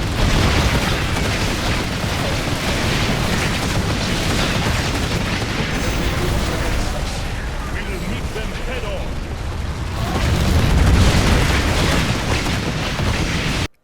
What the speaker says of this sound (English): How about 400 fire blasts like bombs on a single position?